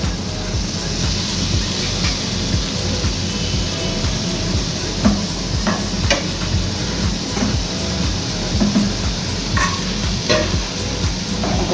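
Garlic and black cumin fry in oil in a kadai, producing a steady close hiss and sizzle with occasional small clicks and pops throughout.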